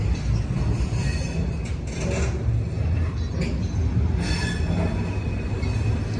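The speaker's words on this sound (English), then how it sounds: "That train is miles long" A long freight train rumbles past nearby at Harpers Ferry in a steady loud roar, with wheels squealing and clattering throughout.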